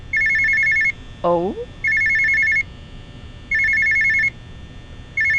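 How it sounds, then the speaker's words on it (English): Desk telephone in a Five Nights at Freddy's story game chirping in repeated electronic ring bursts, about three clear rings with pauses between, with a brief spoken exclamation between the first two. "The phone is still ringing"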